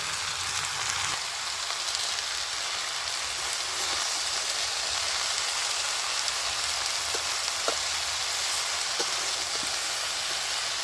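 Red amaranth greens and mixed vegetables frying together in a pan, a steady soft sizzle and crackle like light rain running throughout at low level, with a few faint pops and clicks and no voices.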